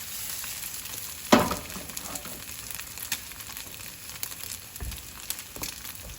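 Eggs frying in a pan with corned beef hash, a steady close sizzle with a sharp clatter as they are flipped and a few soft scrapes and taps after.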